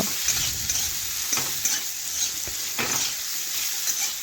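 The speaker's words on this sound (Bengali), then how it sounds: "আলুগুলো ভেজে নিয়েছি, তুলে নিচ্ছি।" Fried potatoes are scooped from a pan of hot oil, a steady sizzle broken by several short scrapes and clinks of a spatula, close and moderately loud.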